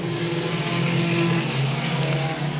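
A sport compact race car roars past down the backstretch of an oval track, a steady loud engine drone that swells slightly mid-way, heard without talk.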